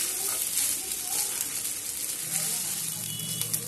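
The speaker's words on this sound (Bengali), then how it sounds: "চালটা খুব ভালো করে ভেজে নেব ঘিয়ের সাথে।" Soaked, drained rice frying in ghee in a pan, giving a steady close sizzle with occasional scraping stir sounds throughout.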